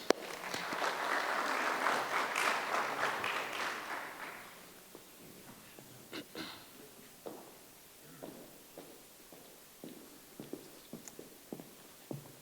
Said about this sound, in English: Please clap hands.